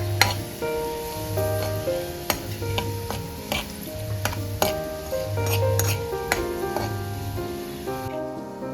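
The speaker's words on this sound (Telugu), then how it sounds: "ఇప్పుడు అదే నూనెలో ధనియాలు, జీలకర్ర వేసేసుకోండి" Coriander seeds and cumin frying in hot oil for mint chutney, a steady close sizzle with repeated stirring scrapes and clinks of a spoon against the pan, no voices.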